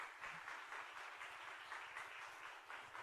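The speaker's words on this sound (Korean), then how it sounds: "우리 나오실 때에 뜨거운 박수로 하나님께 영광 올려드립니다" A church congregation applauding at a Sunday evening service, a steady wash of many hands clapping at once that holds evenly throughout, heard at some distance and fairly quiet.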